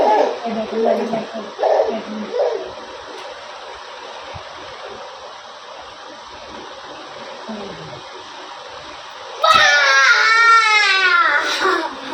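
A child cries out loudly near the end, a wailing, rising-and-falling cry after a stretch of quiet background murmur and brief voices.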